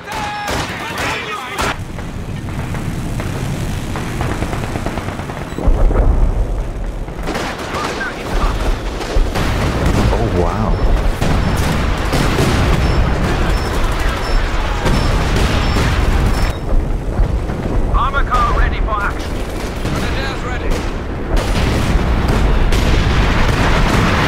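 Repeated booming blasts and rattling gunfire from an artillery bombardment in the video game Company of Heroes 2, loud and dense, rumbling on continuously throughout, with voices speaking over the battle.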